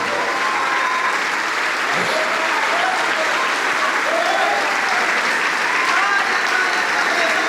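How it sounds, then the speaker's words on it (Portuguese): A church congregation applauds steadily throughout, a dense, even wash of many hands clapping together at a sustained level, with faint voices mixed into the crowd noise. "Vamos aplaudir mais por cada vida que está chegando."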